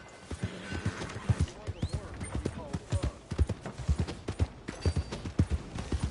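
Horse hooves clip-clop steadily on the ground in Red Dead Redemption 2, a close, rhythmic clatter of hoofbeats running throughout while people talk over them.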